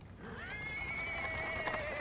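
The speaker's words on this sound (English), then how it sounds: "He's interrupted by the sounds of wheels rolling on the paving stones. A cart drawn by a sad little horse appears from around the corner." A horse pulling a cart over paving stones whinnies in a long, clear neigh that rises and then holds, fairly quiet and alone, with no talk.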